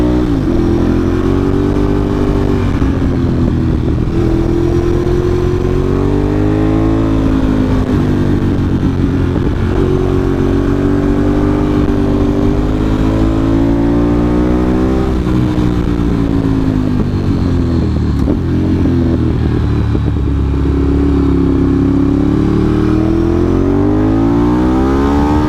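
A motorcycle ridden through the curves at Goshen Pass, leaning low, its engine a loud, steady drone with rising and falling revs throughout, close and continuous with no voices.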